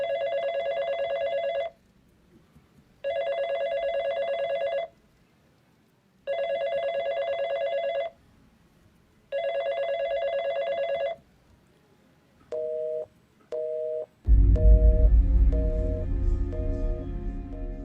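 A telephone rings in four long, evenly spaced bursts with silent gaps, then two short rings before loud music cuts in; the call goes unanswered.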